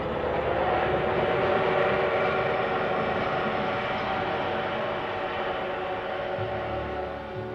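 A train departs in a classic Japanese animated science-fiction film, a steady, dense rumble with a continuous rolling roar that slowly eases in loudness, no clear horn blast.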